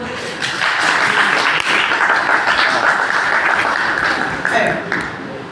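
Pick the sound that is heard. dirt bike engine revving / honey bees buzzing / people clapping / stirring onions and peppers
people clapping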